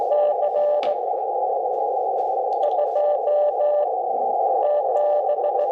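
Morse code sidetone from a QRP ham radio transceiver, Xiegu G90 or BG2FX FX-4CR, played through an external speaker: a loud, steady mid-pitched tone keyed in dots and dashes over a constant hiss with brief crackles.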